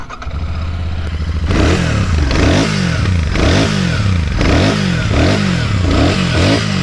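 A Royal Enfield Shotgun 650 motorcycle idles with a steady low thrum, then is revved repeatedly in rhythmic blips, each rev rising and falling, loud and close with no voices.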